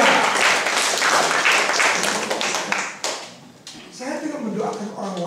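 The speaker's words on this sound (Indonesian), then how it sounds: "Boleh dong tepuk tangan" Congregational clapping at a church fellowship meeting rings out loudly for about three seconds, then drops away as a voice takes over with talk over fading scattered claps.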